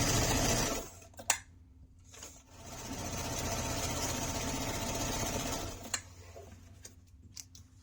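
Sewing machine stitching a fabric water bottle sling at a quarter-inch seam, a steady close whirring run of several seconds between brief stops and clicks, with no talking.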